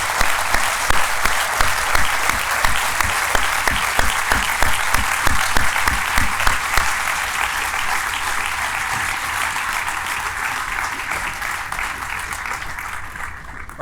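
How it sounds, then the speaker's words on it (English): A dense round of audience applause at a building dedication ceremony, sustained and loud throughout before tapering slightly toward the end, with many hands clapping together close by. "let's please give this amazing group a round of applause."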